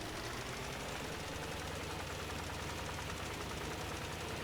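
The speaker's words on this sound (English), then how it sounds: "The tractor is struggling a bit going up the hill." A tractor engine labours uphill while pulling a spreader in a field, a steady dense rumble with a knocking, throbbing beat running unbroken and loud throughout.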